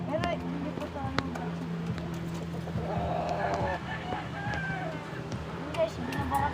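A rooster and young chicks in a yard, with scattered faint clucks and chirps set back in the scene and a person talking over them.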